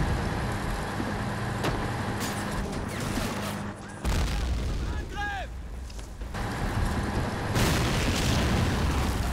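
Mortar fire and explosions in the online strategy game Men of War Online, a Germany versus USA battle: dense rolling booms and bursts of gunfire, continuous and loud, with someone talking over parts of it.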